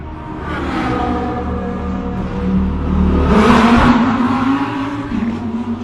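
A race car pulls away from a pit stop in a SAGTRA race with a loud engine roar that climbs in pitch as it accelerates, fairly close and dominant.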